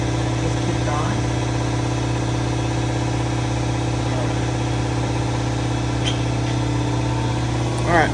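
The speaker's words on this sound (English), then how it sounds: "That's the compressor just kicked on." Air compressor running steadily after kicking on, a constant low mechanical hum with faint vibration close by, with a person speaking intermittently over it.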